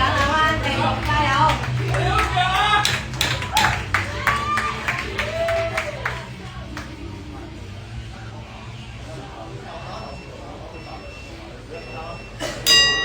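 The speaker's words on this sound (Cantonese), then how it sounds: "我哋係要俾多啲熱烈嘅掌聲啊安啊" A crowd claps at a heavyweight boxing bout, with scattered sharp claps over the first half that thin out and fade while an announcer talks loudly over the hall's ambience.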